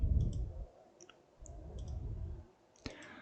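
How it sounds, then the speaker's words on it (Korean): A few soft, sharp mouse clicks sound over a low background hum while confirming a step in 3D CAD software, with the loudest single click near the end. "확인 버튼 클릭."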